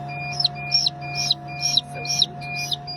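Rapid, high chirps from newly hatched chicks in a hatchery repeat in a steady series of about six peeps, close by, over a faint constant machine hum.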